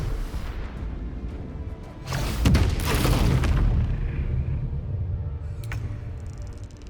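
A heavy boom erupts as the Honor Gate is blown apart in the fantasy role-playing game Baldur's Gate 3, with a low rumbling blast swelling midway and a long roaring tail of debris fading out, no speech.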